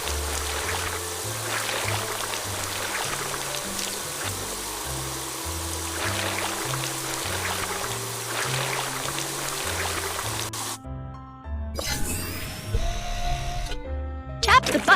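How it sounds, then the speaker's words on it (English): In a fire truck washing game, a cartoon water sprayer hisses steadily while rinsing mud off the vehicle, set under bouncy background music with a narrator speaking. "First, drag the water sprayer to rinse off the mud."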